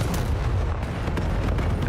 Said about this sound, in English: Guns, bullets, and grenades.